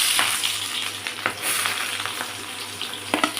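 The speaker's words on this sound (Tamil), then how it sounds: "மீடியம் சைஸ் வெங்காயத்தை பொடியாக நறுக்கி வச்சுக்க அது போட்டலாம்" Chopped onion frying in hot oil with turmeric, a steady close sizzle with occasional stirring scrapes and pops.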